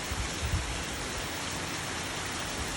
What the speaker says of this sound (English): We are getting a nice rain.